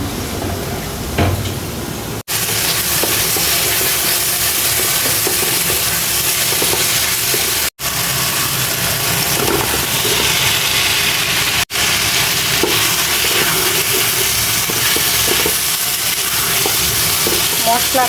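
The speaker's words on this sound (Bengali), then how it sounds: "মশলা কষিয়ে ভেজে রাখা আলু ডিম দিয়ে এখন নাড়াচাড়া দিতেছি" Fried potatoes and eggs are stirred in a spiced masala in a hot pan, with loud close sizzling, repeated scraping strokes and brief sharp breaks in the sound.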